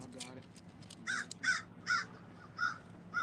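A crow caws outdoors in New Orleans, with five loud, evenly spaced harsh calls following a brief murmur of voices at the start.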